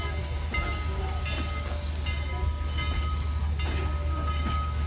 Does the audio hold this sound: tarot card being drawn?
no